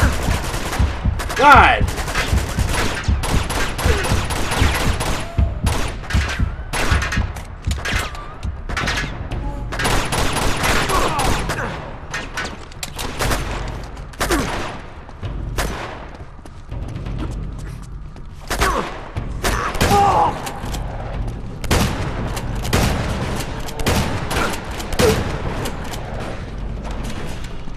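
Rapid bursts of gunfire from Uncharted 2: Among Thieves, sharp shots and automatic volleys crackling densely through most of the stretch with brief pauses, loud and close, with a voice exclaiming once.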